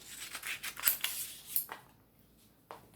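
Scissors snip through fabric for a sewn tissue holder, with several quick crisp cuts close by, then a pause and one last snip, no talking.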